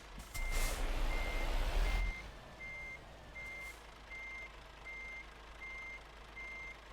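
Repeated reversing beeps sound from a truck in Euro Truck Simulator 2, with a steady chain of evenly spaced alarm tones after a short loud burst of rumbling noise at the start.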